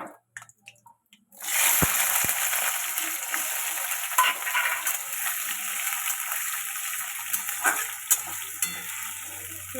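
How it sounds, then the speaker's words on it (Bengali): Potatoes frying in oil with dry chilli and bay leaf, a loud steady sizzle that bursts in after a second of quiet and holds with small crackles and occasional stirring clinks. "আলুগুলো ভালো করে ভাজবে"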